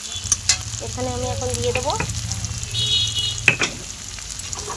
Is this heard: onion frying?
yes